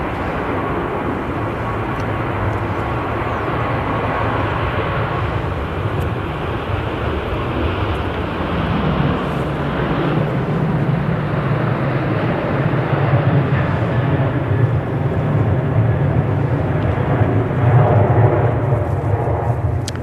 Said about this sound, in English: So that was the Ryanair after Budapest